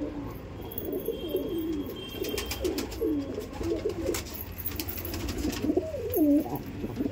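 Pigeons coo repeatedly up close, overlapping throaty warbling calls rising and falling over a low background hum, with soft flutters and clicks scattered through.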